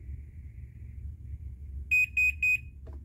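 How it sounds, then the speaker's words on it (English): A garage door opener with myQ Wi-Fi, from Chamberlain or LiftMaster, beeps three times as its Wi-Fi settings are erased: three short, loud, evenly spaced tones over a low background hum, followed by a faint click. "you push and hold that button until the opener beeps 3 times"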